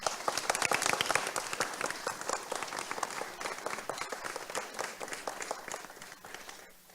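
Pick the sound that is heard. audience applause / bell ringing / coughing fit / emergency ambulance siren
audience applause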